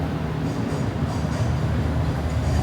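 A train rolls past on city rail tracks in Philadelphia, a steady, loud rumble with faint wheel clatter that fills the short stretch without any talking.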